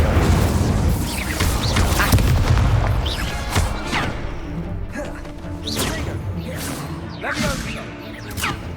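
In the Hogwarts Legacy video game, the Incendio fire spell erupts with a loud roaring burst, followed by repeated whooshing and crackling blasts of combat effects layered over a rumbling low background.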